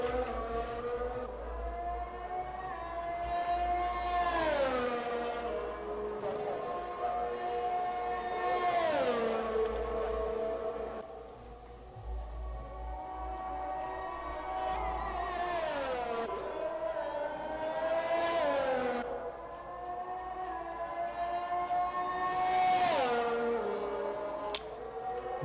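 A racing video game car on a hot lap at Imola: the engine whine climbs steadily through each gear, drops at every shift and brakes down before surging again, loud and close throughout.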